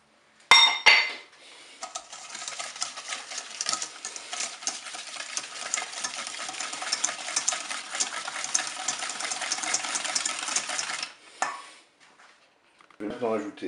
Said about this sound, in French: On va commencer par battre le beurre